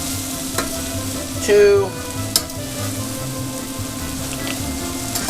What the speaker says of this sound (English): So that butter is melting.